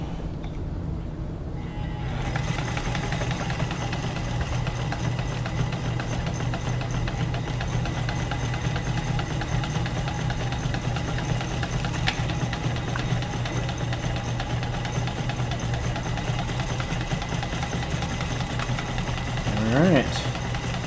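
A White 600 sewing machine runs steadily through a zigzag stitch, a close, continuous mechanical hum with a rapid needle rhythm starting after a brief pause and carrying on evenly to the end.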